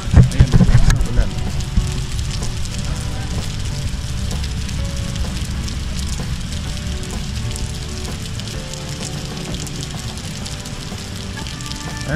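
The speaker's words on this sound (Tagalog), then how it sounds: "Ay, lakas ng ulan." Heavy rain pours steadily in a dense, hissing wash in Riyadh, with a louder rush at the start and voices faintly underneath.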